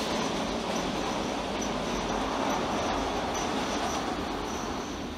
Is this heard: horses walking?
no